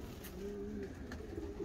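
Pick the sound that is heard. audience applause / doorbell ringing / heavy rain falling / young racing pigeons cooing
young racing pigeons cooing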